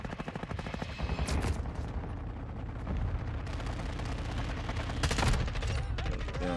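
Shotgun blasts from Call of Duty: Modern Warfare 2 multiplayer: heavy, booming reports come in quick succession amid continuous battle noise, loudest around the middle and end, with no voices heard.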